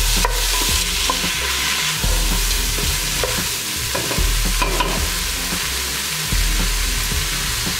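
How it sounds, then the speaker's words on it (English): Squid and other seafood with scallions and carrots stir-fried in a pan for a spicy Korean-Chinese seafood soup, loud continuous sizzling with repeated scraping and clattering of a utensil stirring. "Quickly just stir fry those."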